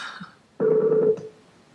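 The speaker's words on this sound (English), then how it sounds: "okay, now it's ringing." Outgoing telephone call ringing on the line: a single steady ring tone lasting about half a second after a brief quiet gap, clear and close, with no talking over it.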